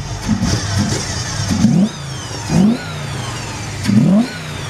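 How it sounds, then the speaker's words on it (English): A 1968 Chevelle's engine revs hard in three or four quick throttle blips over a steady idle, each rise sharp and nearby. "I'm gonna hit the gas and see if we can get the sound of the engine coming out from underneath the hood."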